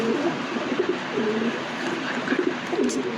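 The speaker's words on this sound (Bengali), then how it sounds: "দুই পেয়ার ধামাসিন কবুতরের বেবি" Damascene pigeons coo repeatedly in soft, low throaty rolls, several overlapping phrases over a steady background hiss.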